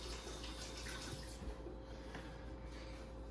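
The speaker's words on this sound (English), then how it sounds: "after I wash my hands" Water runs steadily from a kitchen tap during handwashing after pie dough is handled, a continuous close splashing hiss that holds without a break and has no talk over it.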